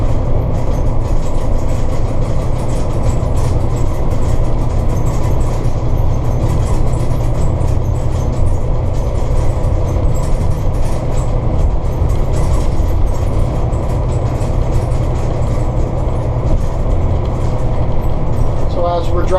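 Steady low engine rumble and road noise inside a new diesel coach cruising at about 60 km/h, a constant loud drone with little variation and no clear talk over it.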